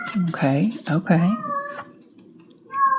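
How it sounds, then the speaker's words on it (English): Loud, near meows come from a domestic cat in an indoor room, with several drawn-out calls and a quieter meow at the end, and a person briefly speaks between them. "Sorry about my cat."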